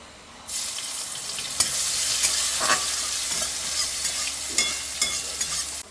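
A loud, steady sizzle of onions frying in hot oil starts abruptly, with occasional stirring scrapes and pops throughout.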